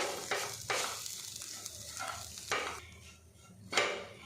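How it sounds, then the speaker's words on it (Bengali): Bitter gourd is mashed and mixed by hand with gram flour, giving close, soft, squelchy strokes in a loose rhythm with a few sharper scrapes, and no talking. "বেসনটা দিয়ে উচ্চের সাথে বেশ ভালো করে মিশিয়ে নেব একটু এইভাবে ম্যাশ করে নেব যাতে বাইন্ডিংটা ভালো হয়"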